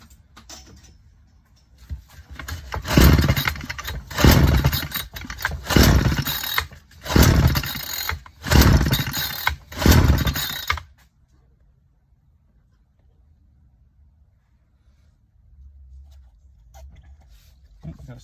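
A Craftsman string trimmer with a carburetor issue is pull-started: about six loud, rough roaring bursts close by, then the engine stops and faint handling noises follow.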